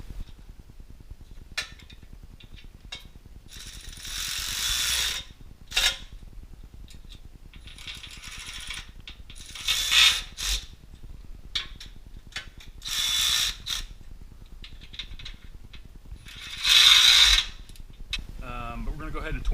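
Several short bursts of ratcheting clicks from a hand ratchet tightening mounting bolts during a WARN VR EVO winch installation, set to 35 foot-pounds, coming in separate spurts with pauses and faint background noise between them.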